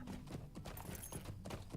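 Horse hooves in a video game clip-clop in a quick, steady galloping rhythm, fairly quiet, with faint tonal game music beneath.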